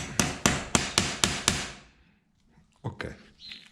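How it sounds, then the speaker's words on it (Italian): A hammer taps a bushing into a DNM AO42RC rear shock being fitted to an e-bike, six sharp evenly spaced metallic knocks close up, followed by a pause and a few softer handling clatters. "Piccole martellatine."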